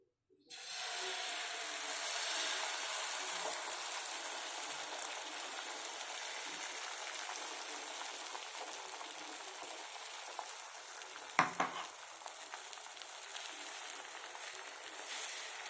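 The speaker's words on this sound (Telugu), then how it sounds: "ఇది పెనం మీద వేసుకుందాము" Bread omelette egg mixture goes onto a hot pan and sizzles loudly and steadily from the start, with a brief clatter near the end.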